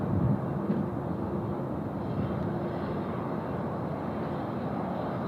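An airliner powering up for takeoff on runway 16 right at Sydney Airport, a steady broad engine roar at moderate distance that holds constant throughout with no voices.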